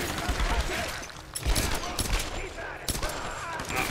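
Bursts of automatic weapon fire crackle through a Tomb Raider firefight, rapid rattling volleys recurring over four seconds amid dense combat noise, loud and close.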